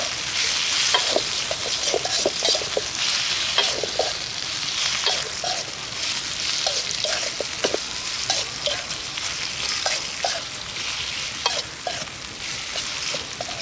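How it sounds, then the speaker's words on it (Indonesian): Snails (bekicot) frying in a pan while being stirred, a dense continuous sizzle with frequent clicking and scraping stir strokes, near and fairly loud, without talk. "Aduk-aduk teman-teman. Olahan bekicot teman-teman."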